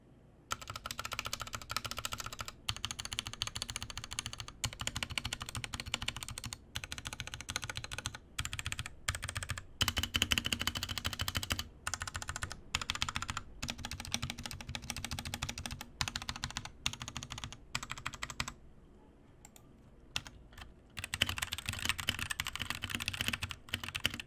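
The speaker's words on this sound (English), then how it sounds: "Now using the stock configuration of the keyboard, let's go ahead and do a quick sound test." Typing on an RK G68 mechanical keyboard in stock configuration: a close, steady run of crisp key clacks with brief pauses and no talking.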